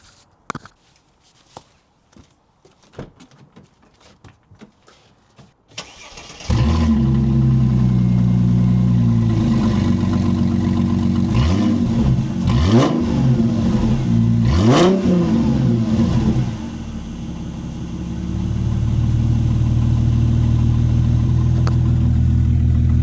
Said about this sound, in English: let's give you an idea what the cold start sounds like on my Mercedes SL